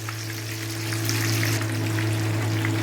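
Hariyali chicken tikka cooking in a pan, giving a steady, close sizzle that grows slightly louder partway through, over a constant low hum.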